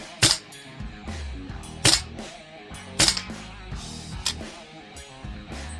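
A Tokyo Marui AKM airsoft rifle with a 310mm inner barrel, Jaeger Precision arm and Flamingo bucking firing 0.32 gram BBs, heard as sharp single snapping shots spaced irregularly, with one or two louder cracks among softer ones.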